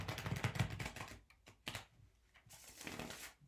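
A deck of tarot cards is shuffled by hand in a series of rapid riffling, flicking bursts with brief pauses between, close and clear, with no voices.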